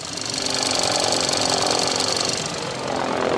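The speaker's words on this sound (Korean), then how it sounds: "일단 엔진룸 소리부터 들려드리겠습니다." Gasoline engine of a Hyundai Avante AD 1.6 GDI idling under an open hood, a steady close ticking whir with dense rapid injector-like clatter, holding even throughout.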